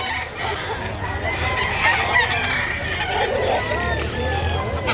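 Chickens and roosters at a poultry market in Batangas, with crowing and clucking rising over a steady crowd babble and nearby talk.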